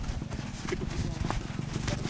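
Horse hooves clip-clop while riding, a quick run of soft close hoof hits under a steady rumble, with people talking over them.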